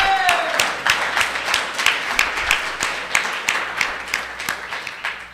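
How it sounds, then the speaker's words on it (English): A political meetup crowd in Cocoa, Florida claps for its candidates: sharp, separate hand claps in a loose, fairly regular patter from a modest group, with no voices over it. "Let's give another round of applause to our candidates this cycle."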